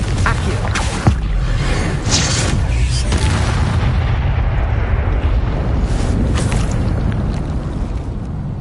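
A Confringo spell explosion in the video game Hogwarts Legacy: a loud, close boom with a sharp crack near the start, followed by a heavy, rolling rumble that slowly fades.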